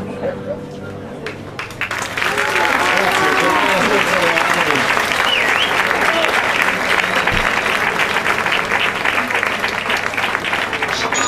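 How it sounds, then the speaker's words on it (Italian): An audience applauds at a cover band concert, with quiet music before a burst of dense clapping that then holds steady. A voice speaks over it. "si sentano anche gli applausi qui della platea"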